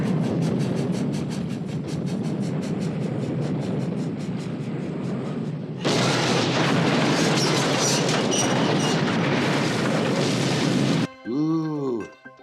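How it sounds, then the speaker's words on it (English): Radio sound effects of a train, a dud, a thud and an explosion: a loud, steady rattling rumble of a train that swells into a harsh, brighter roar, cut off by a short thump and a warbling fizzle at the end. "And a dud, and a thud, and an explosion."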